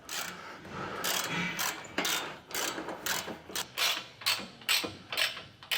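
Set screw tightened on a nerf bar bracket while installing Westin grate step nerf bars on a 2023 truck, a steady run of metallic ratcheting clicks and creaks, close and fairly loud.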